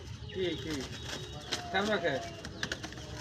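Pigeons coo in soft, repeated phrases close by, with a person talking over them and a brief flutter near the end.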